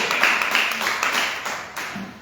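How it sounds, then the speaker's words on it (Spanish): A church congregation applauding during a worship service: a short, dense wash of many hands clapping at once, steady and fairly loud throughout, with voices mixed in. "Denle un aplauso a Dios y póngase de pie esta noche"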